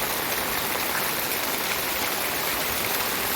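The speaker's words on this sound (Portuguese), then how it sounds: "bateu uma chuva forte aqui e tá água escorrendo" Heavy rain pours down in Aracaju with water running off surfaces, a dense, steady, loud hiss that holds unbroken throughout with no voices.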